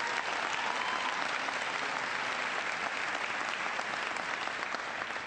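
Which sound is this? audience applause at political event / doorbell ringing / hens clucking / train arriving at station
audience applause at political event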